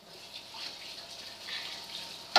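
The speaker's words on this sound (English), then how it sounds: "got the water running, you can't hear me" Water running steadily from a kitchen tap while baking, a constant hiss of even loudness with no voices over it.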